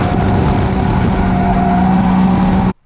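A budget Scion FR-S drifts with a loud, sustained engine roar that stays close and steady, then cuts off abruptly.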